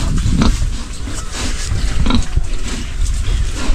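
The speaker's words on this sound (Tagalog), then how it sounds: "So yan na po ate, yung baboy." Pig grunting, dense and loud, with repeated rough grunts close by over a noisy outdoor background, with no speech.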